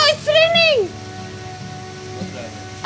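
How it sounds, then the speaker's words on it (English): Rain falls steadily in a flooded outdoor spot, a soft continuous hiss beneath a child's high-pitched voice that briefly sounds at the start before the shower carries on alone. "No, it's raining."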